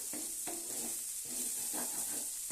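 Bitter gourd pieces fry in a pan over a high flame with a steady close sizzle, and a few soft stirring scrapes come at irregular intervals. No one speaks.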